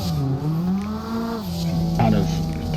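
Car engine in Assetto Corsa held at a steady, wavering drone while drifting, the throttle feathered so the pitch dips and swells, with faint tire noise under it and someone talking throughout.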